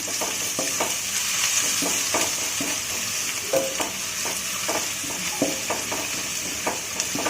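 Steady sizzling of onion and garlic frying in hot oil for chicken Manchurian, with repeated soft scraping and stirring taps from a utensil in the pan.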